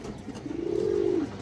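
A green-necked female Giribaj pigeon gives a single drawn-out coo, rising and holding steady before fading, close and clear against faint room noise.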